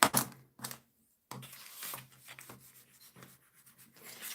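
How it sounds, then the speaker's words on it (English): A bone folder rubs and scrapes firmly along folded paper card, a few short close strokes followed by a longer run of rasping, scratchy passes, with nothing else heard. "I'm just gonna go in with my bone folder"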